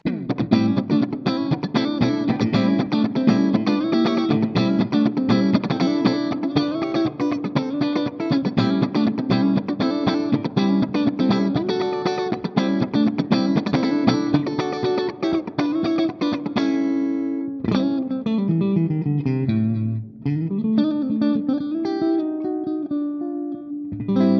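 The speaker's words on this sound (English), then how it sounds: "there are a bunch of tones from the ENGL CABLOADER" A clean electric guitar plays chords and picked notes through an ENGL Cabloader cab simulator, an amp-style tone with light effects, steady and full for the whole stretch, no talking.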